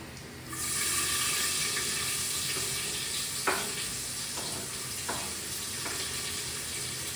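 Chopped onion hitting hot oil with curry leaves in a home kitchen pan, a steady loud sizzle with a few light stirring clicks.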